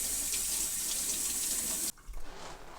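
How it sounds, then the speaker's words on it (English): Tap water runs steadily from a kitchen faucet while hands are washed during fruit crumble preparation, a loud, even hiss that stops abruptly partway through, leaving quieter clatter afterward. "So I'm going to wash my hands."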